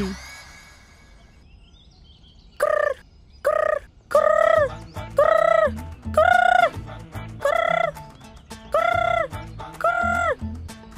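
A person imitates bird calls to summon pigeons, making about eight loud, repeated, warbling calls in a rough rhythm, each separated by short pauses.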